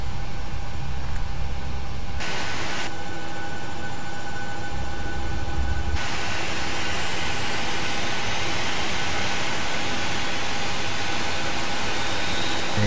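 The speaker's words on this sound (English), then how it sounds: "You can see that your engine number 2 is starting here." Boeing 737 engine number 2 spooling up in the FSX flight simulator: a steady broadband jet roar with a whine, running continuously and loud, stepping in intensity after a couple of seconds.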